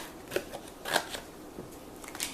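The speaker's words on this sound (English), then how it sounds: "I'm going to cut a little star." Small scissors snip through paper while cutting out a little star shape: a few short, crisp cuts with pauses between them, close and quiet, with no talk.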